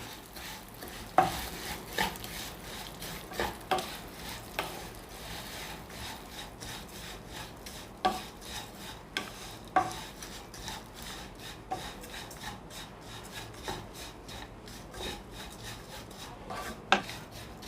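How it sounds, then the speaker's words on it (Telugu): Vermicelli (semiya) being stirred and roasted in a pan over a low flame, with repeated dry scraping strokes and occasional louder spatula knocks in an uneven rhythm, close and fairly quiet. "మొత్తం మిక్స్ అయ్యేటట్టు ఒక 2 నిమిషాలు ఈ ప్రాసెస్ అంతా లో ఫ్లేమ్లోనే జరగాలి."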